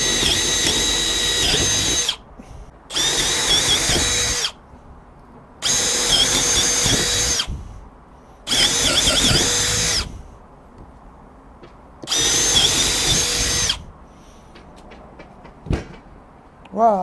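A cordless Milwaukee M12 hammer drill/driver, model 3404, set to hammer drill mode, bores 3/8 inch holes. Five loud, rattling bursts of roughly two seconds each are separated by short pauses, close up, with no talk over them.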